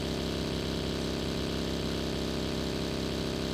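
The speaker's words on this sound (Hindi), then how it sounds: "मैं उसकी बाइक देख लेता हूँ।" Motorbike engine running in a mobile battle-royale video game, a steady droning hum that continues unbroken throughout with no pauses.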